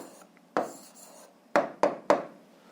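A pen scratching out an answer on paper while working an algebra exercise: a few close, short, dry strokes and taps, one longer scratch, then three quick sharp strokes in a quiet room.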